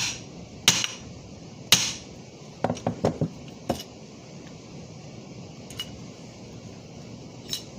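Sharp metallic hammer taps ring out as a pin is driven into a Lionel 6110 model locomotive, a couple of strong strikes followed by a quick cluster of lighter ones and a few faint final taps.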